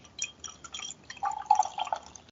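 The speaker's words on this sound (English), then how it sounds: "That's good pour audio right there." Raspberry beer pours from a corked bottle into a glass, a short run of close, quiet glugging and splashing drips with no talking.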